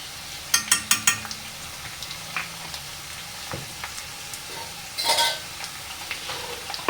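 Ghee crackles and sizzles in a hot pan as tempering for upma is added, with a cluster of sharp pops early on, scattered spits, and a brief burst of sizzling near the end.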